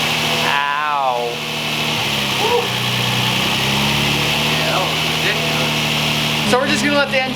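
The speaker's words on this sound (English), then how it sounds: "we're just gonna let the engine go for a couple of minutes" A loud Infiniti G35 engine idles steadily and close by, with a low constant rumble, while a person talks over it at the start and end.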